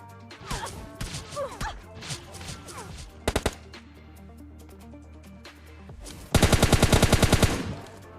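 Gunfire in the mobile shooter PUBG Mobile Lite, with scattered shots and impacts, a quick three-round burst, then a loud rapid automatic volley near the end, set against game background sounds.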